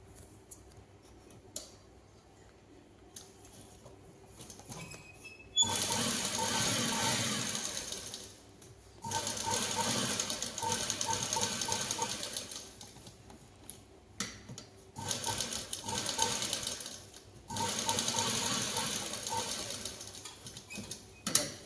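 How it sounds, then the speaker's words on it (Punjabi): A sewing machine stitches the neckline of a garment in several bursts of steady running, separated by short pauses for repositioning the fabric, close and moderately loud with no talking. "ਆਪਾਂ ਇਧਰਲਾ ਪਾਸਾ ਸਲਾਈ ਕਰ ਦੇਣਾ"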